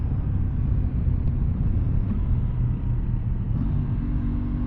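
A 2023 Aprilia Tuono 660 Factory motorcycle engine holds a steady 4,000 RPM cruise in fourth gear, a continuous low droning rumble with a dense, even texture and no speech over it.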